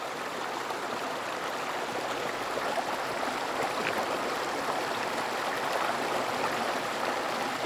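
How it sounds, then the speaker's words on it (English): A low river flows beside a road toward Mount Aso in Japan, giving a steady, even rushing of water that holds constant throughout. "here we have some kind of river"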